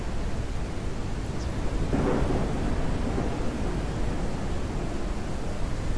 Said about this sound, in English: A storm is coming.